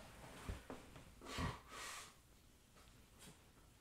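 A few quiet nasal sniffs and snorts, close by, separated by short pauses in an otherwise hushed room.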